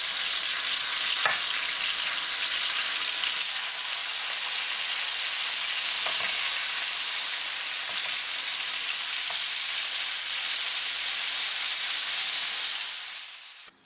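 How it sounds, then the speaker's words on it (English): Fish fries undisturbed in very hot, smoking oil in a shallow pan over medium-high heat, a loud, continuous hissing sizzle with a few faint knocks that tapers off at the very end. "I'll let the fish fry undisturbed for about 2 to 3 minutes"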